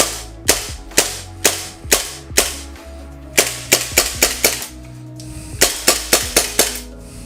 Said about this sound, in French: Regardez-moi le retour de glissière.